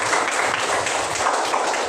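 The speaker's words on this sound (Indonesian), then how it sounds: "berikan tepuk tangan untuk temannya" Second-grade class of pupils clapping for a classmate in a primary school lesson, a brief dense patter of hands at steady loudness with faint voices mixed in.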